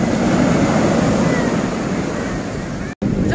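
Ocean waves wash in at Calangute beach in Goa, a loud, continuous roar of surf mixed with wind buffeting the microphone, ending in a brief sudden dropout.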